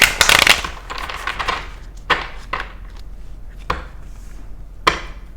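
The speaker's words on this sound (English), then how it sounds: "we're saying one more shuffle, and then we're just going to choose one card" A deck of tarot cards being shuffled, with a burst of riffled flutter at the start followed by a few separate crisp snaps and taps, close by and with no talking.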